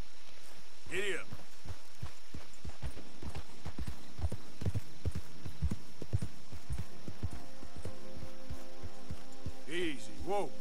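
Horse hooves clip-clop in a steady rhythm on a trail in the Red Dead Redemption 2 game, with a low hum underneath and a brief whinny or snort at the start and near the end.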